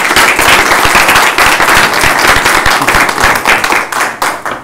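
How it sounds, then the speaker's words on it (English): Loud applause fills a county board of commissioners meeting room, many people clapping in a dense, sharp patter that holds strong before thinning slightly toward the end, with no speech on top. "I think they deserve a round of applause"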